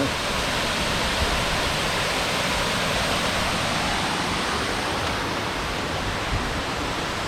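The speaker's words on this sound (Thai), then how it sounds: "สามารถมายืนมองน้ำตกได้" Water of a waterfall at a park pours in a steady, broadband rush, loud and unbroken for the whole stretch, with no voices over it.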